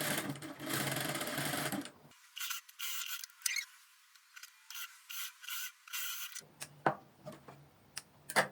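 A sewing machine stitches the shoulder seam of a V-neck top in rapid mechanical bursts, close and loud, with brief pauses between runs and fabric handling noises.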